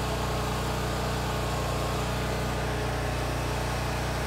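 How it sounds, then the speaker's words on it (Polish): A power generator producing electricity drones steadily in the background during a citywide blackout in Mérida, Venezuela, a constant low engine hum with no breaks. "Pewnie słyszycie teraz w tle agregat, który produkuje prąd."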